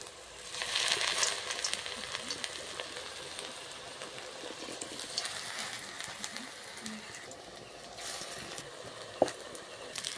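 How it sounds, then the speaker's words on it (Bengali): Lentil fritters (bora) fry in hot white oil with a steady, crackling sizzle, loud and close, with the occasional spatter and clink. "তেলটা গরম হয়ে গেছে, এরপর আমি ভেজে নিচ্ছি"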